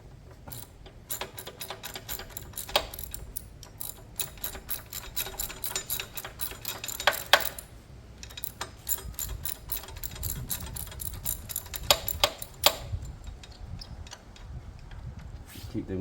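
Old brake bracket being removed from a Sinnis Outlaw 125cc motorcycle, with rapid ratcheting clicks in bursts and metallic taps, fairly faint and close.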